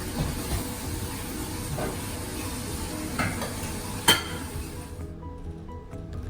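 Oats dosa batter sizzling on a hot tawa, a steady crackling hiss with a few sharp clinks of a utensil, cutting off abruptly near the end to near quiet.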